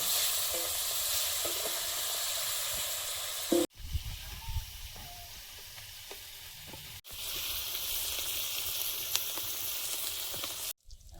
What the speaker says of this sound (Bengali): এবার ল্যাটা মাছগুলো ভেজে নেব